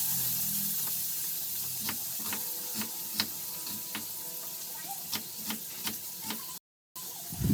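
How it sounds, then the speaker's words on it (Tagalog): Ginger, onion and garlic sautéing in a pan for pork Bicol express, giving a steady close sizzle with scattered sharp pops and crackles and a short gap near the end. "Gisa-gisa na natin si luya, sibuyas, bawang."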